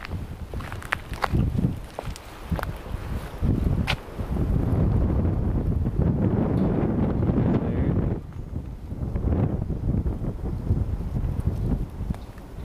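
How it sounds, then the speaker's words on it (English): Strong wind blows outdoors on open Nebraska land with hills, roaring and buffeting the microphone in long loud gusts with a few brief lulls, and no voices over it. "It's really windy out"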